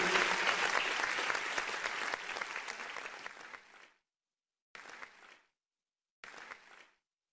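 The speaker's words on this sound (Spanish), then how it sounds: "Dele palmas al Señor." A worship congregation claps in praise, a dense loud burst that tapers off, then two short bursts of clapping separated by silence.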